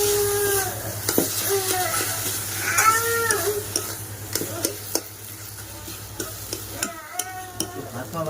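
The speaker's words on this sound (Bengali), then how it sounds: "ভাজাভাজি করবো।" Sweet pumpkin fries in a home kitchen pan. Sizzling and stirring run under a voice, with clattering utensil knocks and scrapes scattered through.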